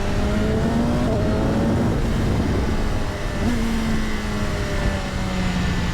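A 2025 BMW S1000RR M Sport motorcycle engine roars steadily while riding, its pitch rising and falling through quick gear changes with auto-blipper throttle blips, loud and continuous with wind noise.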